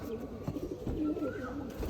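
Pigeons in a loft give soft, low, repeated coos close by over light background rustle.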